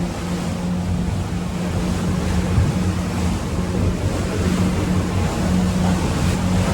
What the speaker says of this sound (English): See all the white caps, just all that tide water just rushing in there